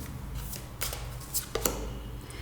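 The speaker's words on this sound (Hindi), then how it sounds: "Get you one card from the अर्थक्राफ्ट auricle." Oracle deck cards shuffle and slide as one is drawn, a few soft, close papery flicks and snaps over a low steady background hum.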